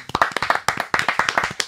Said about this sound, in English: I only want clapping